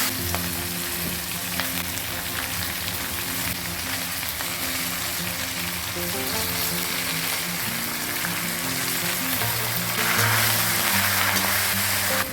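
Leaves are stirred into a hot pan of tomato, onion and garlic for a medicinal South Indian kuzhambu, a steady loud sizzle and fry with soft stirring, continuous and close, with background music underneath.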